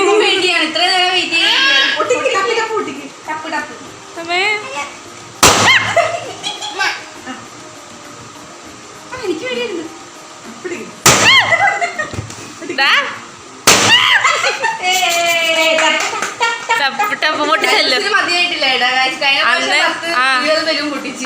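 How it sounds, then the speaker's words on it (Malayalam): Three loud balloon pops burst out several seconds apart amid excited children's chatter and adult talk at home birthday preparations. "ബലൂൺ പൊട്ടിക്കാനാണ് ലല്ലൂസേ പൊട്ടിക്കും പൊട്ടിക്കും പൊട്ടിച്ചു"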